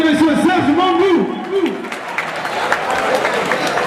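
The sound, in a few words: audience applause for Serge Mangou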